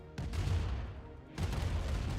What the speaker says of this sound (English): big explosions on both sides